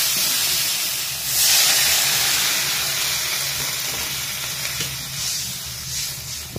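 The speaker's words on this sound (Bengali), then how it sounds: "ভালোভাবে ভেজে নিয়ে কিন্তু তারপর আমি জল ঢেলে দেবো।" Prawn curry frying in a pan hisses loudly and steadily, with steam and sizzle filling the whole stretch and swelling in a few louder surges.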